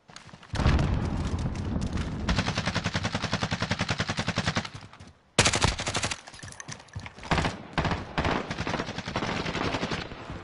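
Sustained automatic gunfire in a shooter video game, loud rapid bursts with a brief pause midway, then more bursts of shots in quick succession.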